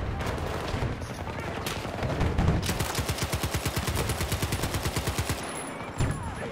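An M60 machine gun fires in the video game Battlefield 2042, with a long rapid rhythmic burst of close, loud shots and scattered gunfire before and after, while a voice talks over it.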